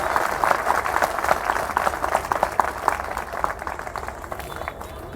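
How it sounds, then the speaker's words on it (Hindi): Applause from a crowd at an outdoor festival rally, a dense continuous patter of clapping with some rhythmic claps, moderately loud and steady throughout. "उनके लिए जोरदार ताली आप लोगों की होनी चाहिए।"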